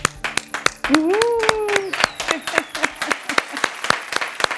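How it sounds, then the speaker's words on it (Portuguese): A studio audience claps along in steady, rhythmic beats, with a voice singing or calling out a sustained tone over the clapping near the start. "Salva de palmas para ela."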